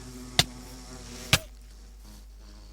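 A faint insect-like buzz of a bee in Minecraft drones in the background, cut by three sharp, loud clicks or hits that come at irregular intervals.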